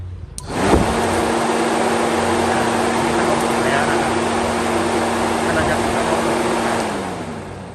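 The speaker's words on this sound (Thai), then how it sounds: "ถ้าน้ำมันมันร้อนจริง ๆ ก็มาเปิดเปิดพัดลมตรงนี้ได้นะครับ" The oil cooler fan on a Hino FRR 190-horsepower concrete mixer truck switches on suddenly and holds a loud, steady whirring roar with a constant low hum, then winds down near the end.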